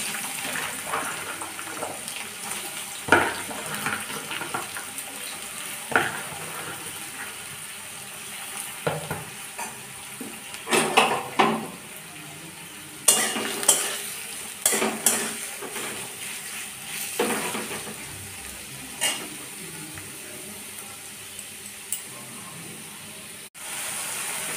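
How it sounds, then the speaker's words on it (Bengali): Onions fry with salt in a pan while being cooked for a chicken curry with papaya and potato, a continuous low sizzle broken by repeated spatula scrapes and clinks of stirring, close up with no voices. "পেঁয়াজটা যখন ভাজতে লাগলাম তখন একটু নুন দিয়ে দিলাম।"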